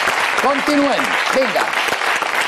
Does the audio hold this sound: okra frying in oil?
no